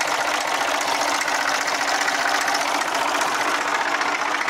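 An engine runs steadily just after starting, with a dense, even rumble and fast knocking pulses throughout, loud and close, with no voices.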